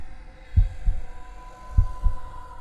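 A heartbeat thumps in two low double beats, lub-dub pairs about a second apart, over a faint steady hum.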